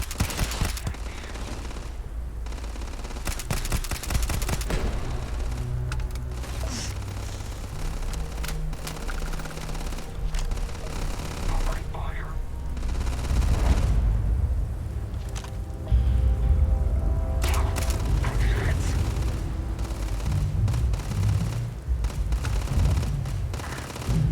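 Heavy weapon fire erupts in a Starfield battle, dense sustained bursts of gunfire and booming blasts rolling continuously and loudly through the whole stretch.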